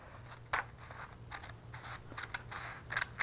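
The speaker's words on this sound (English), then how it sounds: "now here's where you take your scissors and you cut your little postcard" Scissors cut a paper postcard in a run of crisp snips and scraping slices, close and fairly quiet, with no talk.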